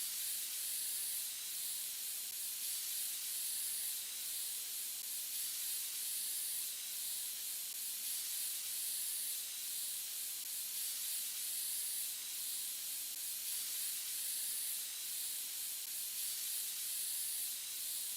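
Steady hissing blast of compressed air from an air compressor cleaning a computer in PC Building Simulator, continuous and even for the whole stretch with no voices.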